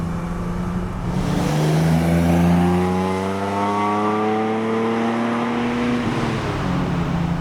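A Datsun 280Z hot rod drives on a British back road, its engine holding a loud, continuous note that climbs steadily in pitch as it accelerates, then levels off near the end, with no voices.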